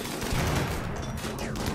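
Autocannon and sniper rifle fire in the colony-survival game Rimworld, a dense continuous burst of overlapping shots and booms running close and loud throughout, with no clear gaps between reports.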